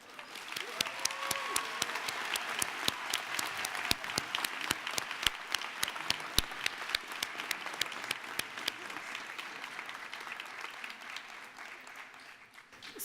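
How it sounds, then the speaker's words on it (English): Audience applause at the Do Good Challenge Finals 2017 award ceremony, a steady dense clapping from a crowd lasting about thirteen seconds, with a few sharp loud claps standing out and a gradual slight fade toward the end. "a big round of applause to our Audience Choice Award"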